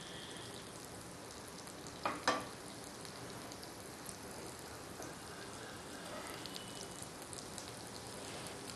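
Tikkis fry in a pan with a quiet, steady sizzle throughout, broken by a couple of brief clinks of utensils near the middle.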